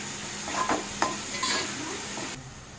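Onion sizzling and frying in oil with salt and turmeric for a cabbage curry, steady hiss with a few stirring scrapes of a spatula, close and alone, no talking.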